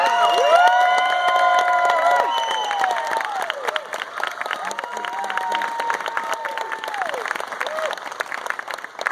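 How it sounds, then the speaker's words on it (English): At a comic convention panel, a large crowd applauds and cheers for the Munsters stars Pat Priest and Butch Patrick. Sustained clapping carries shouts and whoops, and voices call out over it as it settles. "A big, huge, warm round of applause coming up from the Munsters, Pat, Priest, and Butch Patrick."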